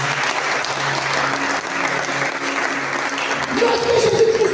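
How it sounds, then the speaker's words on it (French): A church congregation bursts into sustained applause and cheering during a sermon session, a dense, continuous wash of clapping that swells toward the end while voices call out within it. "On donne des acclamations."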